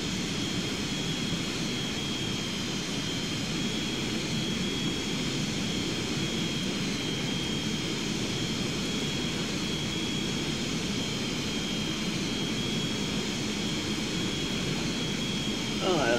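Steady airplane engine drone from the FlightGear flight simulator game, a continuous broadband hum with a faint high whine holding evenly throughout, with voices talking over it.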